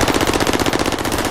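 Rapid automatic gunfire from a Godzilla vs Kong video game, a dense, steady rattle of evenly spaced shots filling the whole stretch, loud and close with no talk.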